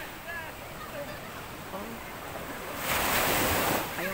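Steady wash of surf breaking on a shore, swelling louder for a moment near the end, with wind rushing across the microphone.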